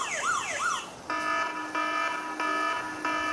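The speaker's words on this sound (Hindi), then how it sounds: "अब ये जब तक ये अलार्म करता रहेगा" A mobile phone's anti-theft alarm blares loudly, first a rising and falling siren wail, then a steady pulsing electronic tone repeated in even bursts with no talking.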